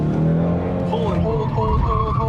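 A 2024 Ford Mustang GT V8 drifts on the handbrake, its engine note and gliding tire squeal rising and bending beneath people talking close by.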